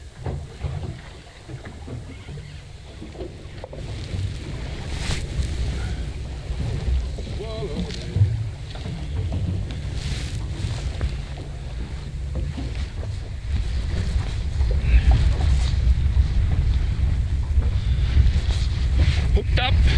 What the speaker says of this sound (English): Hooked up in the wind. It's blowing about 20-25 knots now.